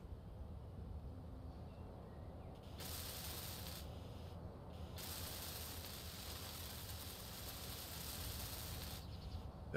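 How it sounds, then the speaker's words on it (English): Welding tool assembling blocks in Space Engineers, a space-building video game: a steady faint hissing, grinding buzz that cuts in and out a few times, running continuously between short pauses. "now I can weld all that up"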